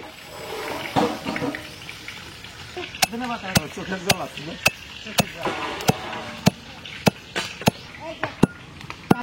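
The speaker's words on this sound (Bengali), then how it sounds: "ভাজা মশলা কুটতে নেব" Fried spices pounded by hand while cooking katla fish curry in a village, a series of sharp regular knocks growing more frequent, mixed with splashy handling noises and some talk.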